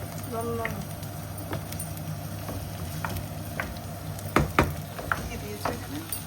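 Pasta being stirred in a cooking pan, with a few sharp utensil knocks and scrapes over a steady low hum and faint background voices.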